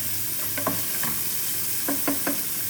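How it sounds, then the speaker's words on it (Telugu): Upma made with poha, its ingredients frying in a pan, giving a steady close sizzle with a few short spoon scrapes as the mixture is stirred. "ఇవన్నీ పచ్చివాసన పోయేదాకా వేయించుకోవాలి"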